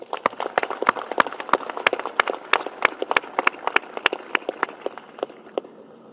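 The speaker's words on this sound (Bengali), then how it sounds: "সবাই আমরা হাততালি দিলাম তাদের জন্য" Audience clapping at a military drill, a sustained round of applause from many hands with dense, fast irregular claps throughout that thin out slightly toward the end.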